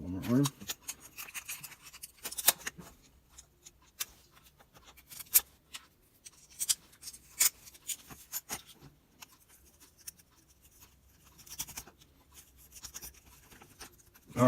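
Screws being pushed through drone frame arms during a HYPETRAIN quadcopter build, heard as close, intermittent scratchy clicks and rubbing scrapes with sharp transient taps scattered across the span, fairly quiet overall.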